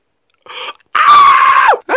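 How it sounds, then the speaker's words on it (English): A cartoon character's voice gives a short yelp, then a long, loud, high scream that drops in pitch at the end before another cry begins. "This is how I scream."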